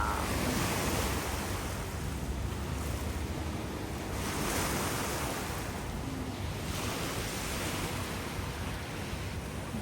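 Sea waves along the Italian coast on a hot summer day, a steady broadband wash of surf with gentle swells rising and falling, mixed with wind rumble on the microphone, loud and continuous with no talk.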